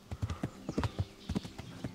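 Horse hooves clip-clop at an even trotting rhythm in the video game Kingdom Come: Deliverance, crisp distinct footfalls close up with no speech over them.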